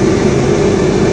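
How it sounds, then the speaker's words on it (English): A new-livery Class 158 diesel train approaches, heard from aboard another train in a quiet zone as a loud, steady rumble with a droning engine hum. "But here comes the other train now."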